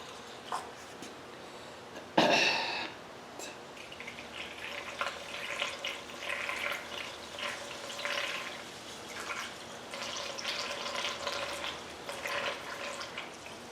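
Coolant glugs and splashes as it is poured from a one-gallon jug into the cooling system of a John Deere 345 garden tractor, a close, uneven liquid trickle after a sharp initial clunk.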